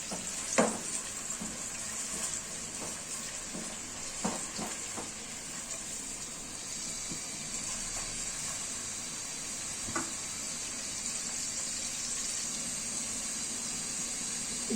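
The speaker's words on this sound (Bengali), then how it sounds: "এই পেঁয়াজটা গরম হইতে মানে পেঁয়াজটা ভাজা হইতে থাক" Onion frying in a pan gives a steady low hiss and sizzle throughout, close but fairly soft, with a few sharp clicks and knocks from stirring early on and one later.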